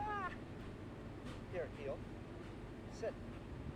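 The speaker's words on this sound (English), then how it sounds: "It's real windy, by the way." Strong outdoor wind buffets the microphone during a dog training session, a steady low rumbling roar running throughout, with a few brief high chirps or whistles over it.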